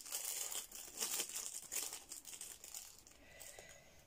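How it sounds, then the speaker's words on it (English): A plastic bag being crinkled and pulled open by hand, quiet and close, with continuous rustling and crackling that rises and falls over a few seconds. "There's probably an easier way of getting in this blinking bag."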